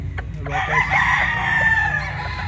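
Talisayin and Hatch gray gamefowl roosters crow at a farm in Lipa, Batangas, with one loud, drawn-out crow close by and faint clucking beneath it, no talk.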